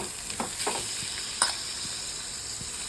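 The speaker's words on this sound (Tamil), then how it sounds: "இப்போ சீவி வச்சிருக்கிற சொரைக்காவை நம்ம இதில் போட்டுக்கலாம்." Grated bottle gourd and onions frying in a pan give a steady, quiet sizzle, with a few soft stirring scrapes and one sharper clink partway through.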